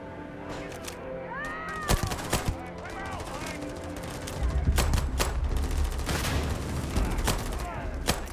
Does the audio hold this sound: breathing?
no